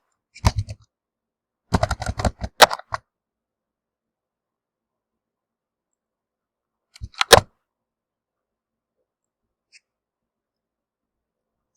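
Computer keyboard typing while working in an Excel spreadsheet: a few short, quiet bursts of clicking keystrokes separated by long silent gaps, with no talking.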